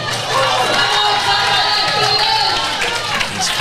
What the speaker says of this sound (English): Crowd's fired up.